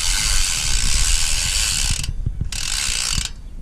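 Mountain bike rear hub freewheel rolled backward, giving a rapid, loud, continuous ratcheting buzz of pawl clicks that stops briefly, resumes, then cuts out again.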